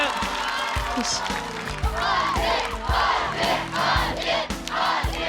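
Studio audience at a stand-up comedy competition cheers and applauds a performer, a dense, sustained roar of crowd voices and clapping with rising shouts throughout.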